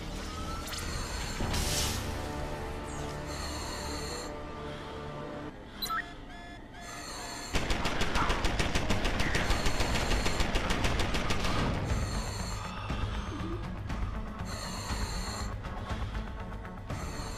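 Rapid automatic turret gunfire in the video game Deus Ex: Human Revolution, loud sustained bursts with crashing impacts, building into a dense continuous barrage in the second half.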